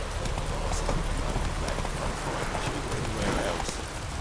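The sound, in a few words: horse Roach galloping in The Witcher 3 video game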